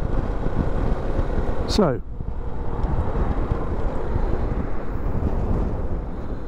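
Steady broadband wind rumble buffets the microphone throughout an outdoor ride with loaded bags, loud and constant, with a brief spoken word near the start.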